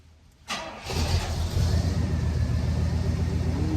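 A car engine with cheap power upgrades cranks briefly and catches on its first start, then settles into a loud, steady running rumble close by.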